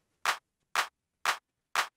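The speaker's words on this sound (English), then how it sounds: "this would be like a four to the floor rhythm." A four-on-the-floor rhythm with four notes in sixteen steps plays as four evenly spaced, short bright ticks about half a second apart, alone and fairly faint.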